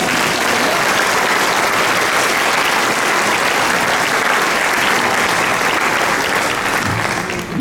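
A large church conference audience applauds and cheers for Jesus, a steady, loud wall of clapping that holds unbroken from start to finish.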